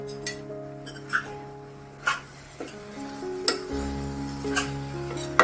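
Fodshi wild vegetable bhaji being stirred in a pan over low gas, a soft sizzle running under scattered light scrapes and clicks of the spoon, with no talking.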